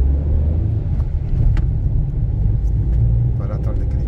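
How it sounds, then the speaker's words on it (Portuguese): Car engine idling and rumbling steadily while the driver parks by a small square in a Tijucas neighborhood, with a person talking over the low, constant drone. "Eu vou parar o carro aqui à direita, nessa pracinha."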